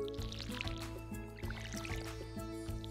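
Watering crops with a watering can in Stardew Valley, soft repeated splashy drips in a steady rhythm, several per second, layered over looping game music with no talk.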